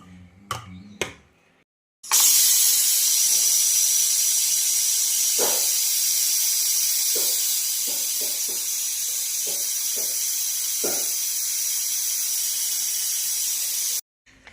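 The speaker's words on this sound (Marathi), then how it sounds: "पहिली एक सिट्टी मी गॅसवर करणार आहे त्यानंतर दोन सिट्ट्या एकदम मंद गॅसवर काढणार आहे" Pressure cooker whistle releasing a long, loud, steady hiss of steam while khichdi cooks, lasting about twelve seconds after a few short clicks.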